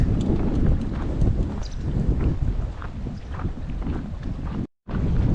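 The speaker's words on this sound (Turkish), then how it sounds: "Rüzgar arttı biraz." Steady spring wind buffeting an outdoor microphone at Knidos, Datça, Turkey, a constant low rumble and roar throughout, briefly cutting out near the end.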